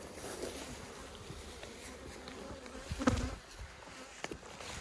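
A steady, faint buzzing of many honey bees, falling off a hive frame during a honey harvest, hums throughout, with a brief thump partway through.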